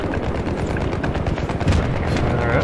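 Loud, rapid gunfire from the video game Battlefield 4 crackles in dense bursts over rumbling background battle noise, close and continuous through the short clip.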